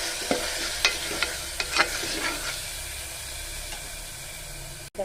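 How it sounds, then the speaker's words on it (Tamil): Tomatoes are stirred in a hot frying pan with pepper and cumin, giving a soft continuous sizzle broken by several sharp scraping and tapping strokes of the spoon against the pan. "இந்த தக்காளியையும் சேர்த்துக்கலாம். நல்லா கிளறி விட்டுக்கிடலாம்."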